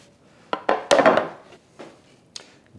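A wooden tray is set down and handled in a kitchen, giving a handful of hollow knocks and clunks spread over a couple of seconds, close and fairly loud, with no voices.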